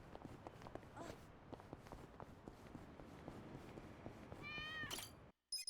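A cat in Yakuza: Like a Dragon lets out one short, high meow near the end after a stretch of quiet footsteps and faint game ambience, then the sound cuts out.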